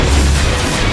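Fire spell cast in the Kingdom Hearts video game during a Trickmaster boss fight, a single loud, close burst with a heavy low boom that fills the brief moment.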